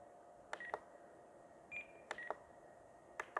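Short electronic beep tones from an RC transmitter timer sound as it is started and stopped for an E-flite A-10 UMX Thunderbolt II model plane, arriving in small clusters of bright beeps against a quiet hiss.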